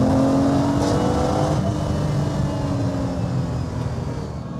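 Lamborghini Miura engine heard from inside on a road test, a loud continuous drone that climbs steadily in pitch under throttle through the mid-range, with wind and road noise throughout.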